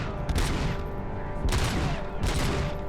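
Loud bursts of gunfire in the video game RoboCop Rogue City, three heavy volleys spaced about a second apart with ringing tails between them.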